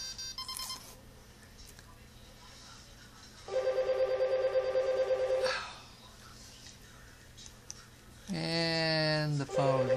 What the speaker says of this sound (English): The phone just ringing away over there.